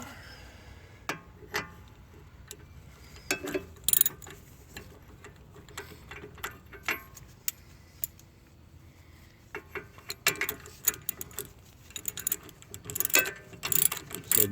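A ratchet tightens the 19mm lower nut on a 2008-2013 Nissan Rogue CV axle, giving quiet, sparse clicks and short bursts of rapid ticking that grow busier toward the end.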